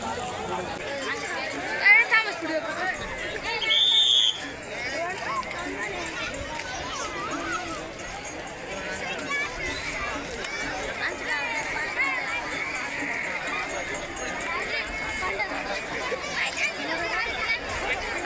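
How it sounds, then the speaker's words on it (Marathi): A large crowd at a Chaitra Purnima village fair gathered to watch twelve carts being pulled, heard as a dense, continuous outdoor hubbub of many voices with a couple of brief louder calls near the start. "तुम्ही बघू शकता की किती गर्दी जमलेली आहे या 12 गाड्या बघण्यासाठी।"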